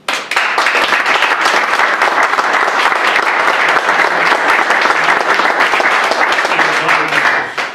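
A crowd at a tribute event honouring elderly people in Paterna bursts into loud, sustained applause, dense and continuous for several seconds before tapering off at the end.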